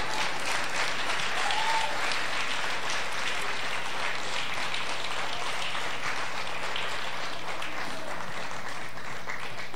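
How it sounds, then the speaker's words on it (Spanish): Church congregation applauding together, a steady loud wash of clapping that fills the whole stretch with no break. "Levante un fuerte aplauso al Señor."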